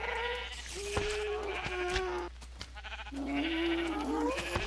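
Several drawn-out sheep bleats from a modified video game texture pack, synthetic and game-like, loud and close, separated by brief pauses.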